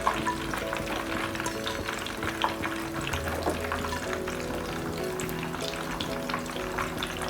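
Okra and onion fry on a hot tawa with a busy, crackling sizzle, joined by scraping and stirring knocks from a spatula, steady and close with no talk.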